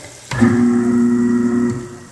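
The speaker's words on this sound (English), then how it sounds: "and then turn on the garbage disposal." A kitchen sink garbage disposal runs with a steady, loud motor hum that starts abruptly and holds for over a second before winding down.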